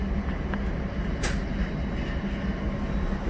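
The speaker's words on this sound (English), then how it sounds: "am on the BNSF Metra going to Cicero Yard" Riding aboard a BNSF Metra commuter train, a steady low rumble and rolling hum of the rail car fills the cabin continuously, with a brief sharper clank partway through.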